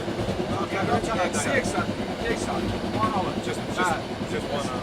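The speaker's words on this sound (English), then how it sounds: "we picked up the slow train to Mashhad" Slow passenger train to Mashhad rolling along the rails between Semnan and Gerdab in Iran, a continuous loud rumble with clickety-clack under a man's speech.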